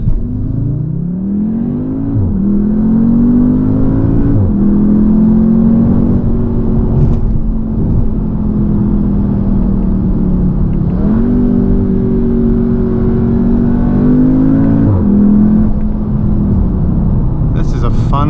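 A 2019 Audi TT S engine pulls hard through repeated accelerations, the loud rising drone climbing in pitch, dropping sharply at each gear shift, then climbing again, heard close from inside the cabin.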